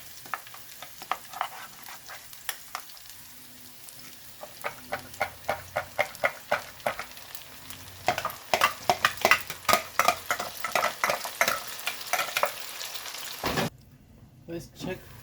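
Peppers added to browned onions in a pan for corn beef stew, sizzling and frying with repeated rhythmic scraping strokes of stirring, close and busy, with brief speech in the background.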